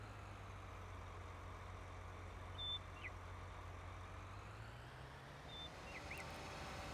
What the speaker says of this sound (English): Is that truck there? It's starting to take off finally.